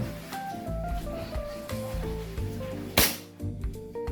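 A Double Bell Pit Viper gas blowback airsoft pistol fires one sharp, close crack over steady background music, followed by a faint softer pop.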